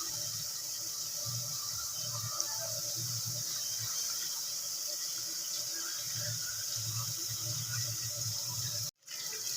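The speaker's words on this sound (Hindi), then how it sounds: "तो अब इसमें मैं पानी ऐड कर रही हूँ, आधा गिलास जो मिली है, आधा कप।" Water is poured into karahi chicken as it cooks, half a cup added to the pan for a light gravy, giving a steady splashing stream that runs throughout and stops abruptly near the end.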